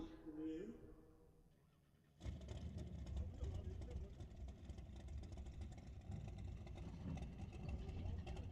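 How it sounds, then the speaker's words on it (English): Drag racing engines firing up at the starting line of a bracket race, a sudden loud burst into a steady rumbling idle after a quiet stretch, with a voice talking briefly at the start. "I hear cars fired up."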